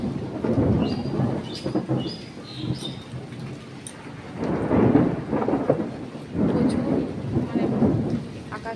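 Thunder rolling during a hailstorm in Howrah, a deep rumble that swells and fades in several long waves over a steady wash of rain or hail, with faint higher clicks on top.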